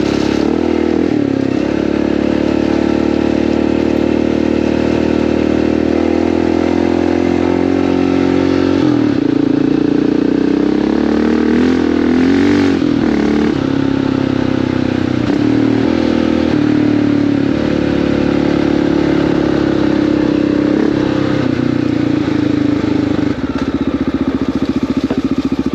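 A Honda XR650L dual-sport motorcycle being ridden off-road, its single-cylinder engine droning loud and steady throughout with small rises and dips in revs as it rolls over rough terrain.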